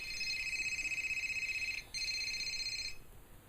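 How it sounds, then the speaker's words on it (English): Cell phone ringing with a steady high electronic tone that cuts out briefly, resumes, then stops, loud and close with no talk. "Of course my cell phone would go off."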